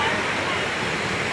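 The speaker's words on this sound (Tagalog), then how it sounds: "Ah, nakikita ko na si Ranac Falls." Daranak Falls in Tanay, Rizal pours as a steady, full rush of falling water, a close broadband roar that holds evenly throughout.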